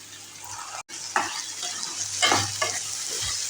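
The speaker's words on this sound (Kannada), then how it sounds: "ಈರುಳ್ಳಿ ಎಲ್ಲ ಚೆನ್ನಾಗಿ ಬಾಡಿಸ್ಕೊತಾ ಇದ್ದೀನಿ. ಸ್ವಲ್ಪ ಬಟಾಣಿ ಹಾಕ್ತಾಯಿದ್ದೀನಿ." Onions and peas sautéing in a pan, a steady sizzle broken by several scraping stirs of a spatula, close and fairly loud, with one brief dropout near the start.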